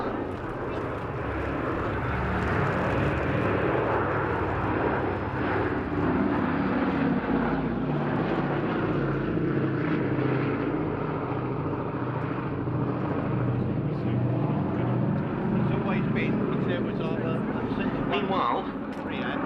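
The B-17 Flying Fortress Sally B flies over the East Kirkby airshow, its four piston engines droning steadily at a distance, with crowd chatter and voices audible throughout.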